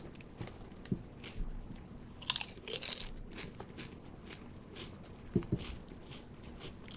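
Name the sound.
crunching Lay's Cheetos Cheese flavored potato chips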